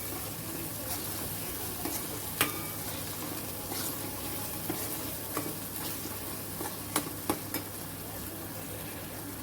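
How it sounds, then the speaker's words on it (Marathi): Spice masala with garam masala and Kashmiri chilli powder sautés in a pan for green brinjal curry, giving a soft, continuous sizzle with a few sharp clicks of stirring, quiet and close. "छान आपण परतून घ्यायचा एक मिनिट आपल्याला हा मसाला"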